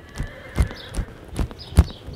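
A ridden horse at a slow gait strikes the ground with distinct, evenly spaced hoof clip-clops, five or six close, fairly loud beats over a quiet background with no talk.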